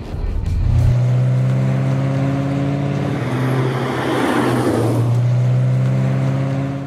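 A Corvette C6 Z06 engine revs hard and loud with its exhaust valves open, its deep exhaust roar swelling and easing in a sustained, throaty drone.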